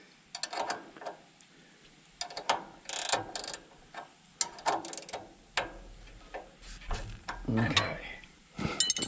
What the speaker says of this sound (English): you'll need a 13mm wrench for the nut here, and a 17mm wrench to hold on to that brass piece